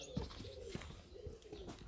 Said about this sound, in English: Under the pigeons who are making their nests.